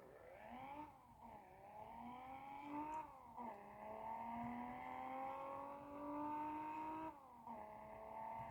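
Car with an inline six-cylinder engine and small turbo accelerating hard toward top speed, loud steady engine tone climbing through the revs with three brief dips at gear changes, no talking.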